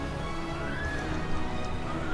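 A horse neighs loudly in the Battle for Middle-earth video game, a drawn-out whinny heard close up over a dense mix of game battle noise.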